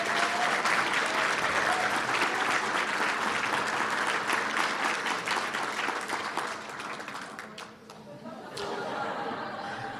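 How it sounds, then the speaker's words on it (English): A school awards-night audience gives a big round of applause, loud and sustained with some chuckling and chatter, then thinning out and fading near the end. "give him another big round of applause"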